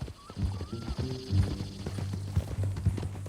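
Horse hooves clop in Red Dead Redemption 2, a steady close rhythmic beat of hoofsteps with a brief whinny and low background game ambience underneath.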